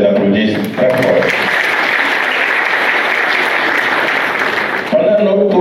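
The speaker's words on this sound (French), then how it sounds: "Je voudrais qu'on les applaudisse très fort." An audience at a gathering for the autonomous district of Saba breaks into loud, sustained applause, a dense wash of clapping that swells and holds for several seconds, with a voice heard briefly at the start and end.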